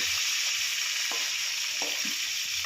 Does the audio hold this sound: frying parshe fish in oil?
yes